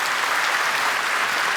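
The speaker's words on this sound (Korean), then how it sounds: "박수로 축하드리겠습니다." Steady, dense applause from a large congregation at a Korean church thanksgiving service, sustained throughout without a break.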